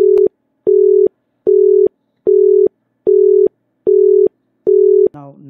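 An Indian telephone exchange tone at 400 Hz pulses in seven steady, evenly spaced beeps of about a quarter second each, loud and clean, ending with a brief different tone.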